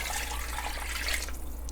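Water pours steadily into a pot holding a turkey carcass for homemade broth, a continuous close splashing rush lasting the whole moment with no talk.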